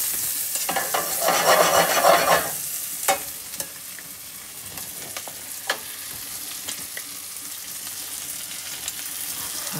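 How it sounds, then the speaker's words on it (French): Vegetables sweating in a knob of butter in a pan give a loud burst of hissing for the first couple of seconds, then settle into a steady, softer sizzle broken by sharp clicks and scrapes of stirring, with no talking. "une noix de beurre. Ça sent bon. Hein. On va les faire suer 2 ou 3 minutes."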